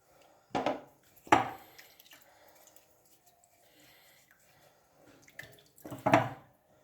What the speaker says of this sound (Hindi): इस तरह हाथों की मदद से हमने अच्छी तरह इसको धो लेना है ताकि जो फालतू जो कालक है, मट्टी है, वो उतर जाए।